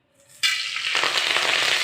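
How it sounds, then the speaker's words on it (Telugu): Dried red chilies, curry leaves and seasoning seeds hit hot oil in a pan for a chutney tempering, bursting into a loud, sudden sizzle that holds steady and crackles close up. "ఎండుమిర్చి, కరివేపాకు వేసి వేయించుకోవాలి."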